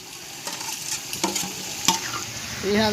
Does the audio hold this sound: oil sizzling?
yes